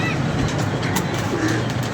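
A pigeon coos low and soft, a faint murmur half-buried in steady, dense background noise across the short stretch.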